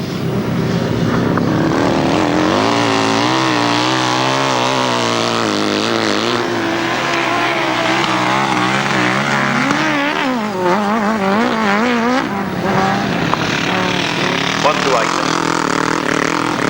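Godden V-twin grasstrack racing motorcycles at a 1997 event, engines droning and rising in pitch as they run flat out through turns, heard continuously under a commentator talking.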